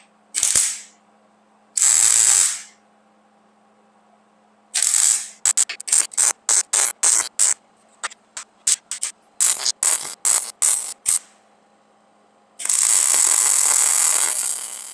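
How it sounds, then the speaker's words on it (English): Lug nuts being welded onto a scrap part: a long crackling arc burst, then a rapid run of short sputtering tacks, and another sustained hissing weld at the end, all close and loud with no talking. "So let's get these welded."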